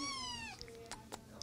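A kitten at the Santa Cruz County Animal Shelter gives one long, falling, high-pitched meow, followed by a few short, soft squeaks and clicks, quiet and close.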